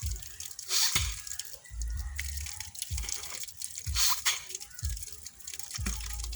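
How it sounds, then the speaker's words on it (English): Water splashes and drips in a steady, repeating rhythm as the nose is rinsed during Muslim ablution, close by and moderately loud. "you rinse your nose 3 times"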